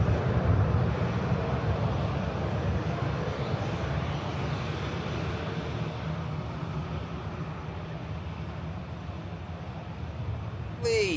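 A TAP Air Portugal Airbus A320neo arrives at an airport, a steady broadband jet roar held at a constant level throughout, with a brief rising whine near the end.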